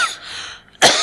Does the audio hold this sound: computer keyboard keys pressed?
no